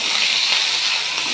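Whole spices, green chilli and tomato fry in hot oil with a bright, continuous hiss and crackle, steady and close throughout.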